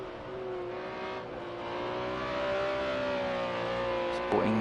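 Racing-game BMW M1 race car engine, in BMW Procar livery at the Red Bull Ring, held bouncing off the rev limiter: a loud, steady high-pitched engine wail with a sharp stutter near the end.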